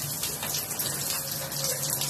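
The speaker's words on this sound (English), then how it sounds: "So the apartment above us is really leaking badly." Water pours steadily from the ceiling of a flooded apartment as the unit above leaks badly, a constant close splashing rush with no pauses and no talking.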